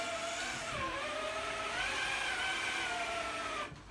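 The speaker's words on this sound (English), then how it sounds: "Again, drag brake and just touch the throttle. That wants to take off." A Hobbywing Axe R2 2800kv brushless motor in an Axial Capra RC crawler whines under throttle, a steady close electric whir that rises and falls in pitch for several seconds before cutting off.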